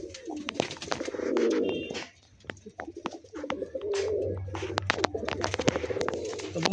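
A pair of Andhra Fulsira tumbler pigeons coo in close, repeated rolling bursts, broken by sharp clicks and flutters and a brief pause midway, with no voices.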